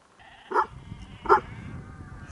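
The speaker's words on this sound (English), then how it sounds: "there's the big dog that protects the flock" A big sheepdog guarding a flock of sheep on a Colorado mountain trail near Little Molas Lake gives two loud barks about a second apart, close by, over a low outdoor rumble.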